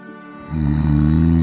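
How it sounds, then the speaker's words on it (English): A loud, deep, rattling snore from a sleeping man in a quiet barracks, rising sharply mid-clip and sustaining close up with a harsh vibrating tone. "Tor snores like a thunderstorm trapped in a barrel, rattling the rafters while the others sleep in peace."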